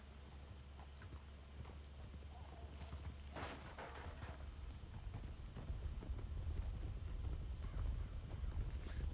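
Galloping horse hooves in a Wild West video game, a rapid, continuous clip-clop at full speed over a low rumble, with a brief whinny partway through and the pace growing louder toward the end.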